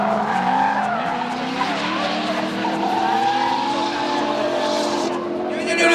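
Race car sliding through a corner at around 93 km/h at a Hungarian speed festival semi-pro run, with loud continuous engine roar and tire squeal throughout, close and steady.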